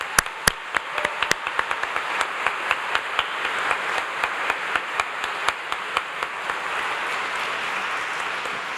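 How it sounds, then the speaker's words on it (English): Audience at a 2015 high school commencement applauding the speaker, starting with a few loud separate claps that quickly merge into a steady round of clapping from the crowd. "Let's give her another round of applause."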